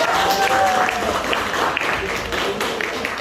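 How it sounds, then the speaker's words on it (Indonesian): Applause in a classroom after a student group presents a tea-making algorithm, a steady wash of clapping from the class with talk and a whistle-like tone over it. "Tepuk tangan dulu"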